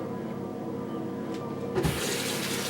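Water running steadily from a tap into a sink while makeup is washed off, a continuous close splashing flow with a brief louder surge near the end.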